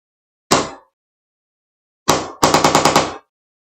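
A paintball marker fires several sharp, loud shots close by: one isolated crack, a pause, then another shot followed by a rapid burst of about six evenly spaced pops.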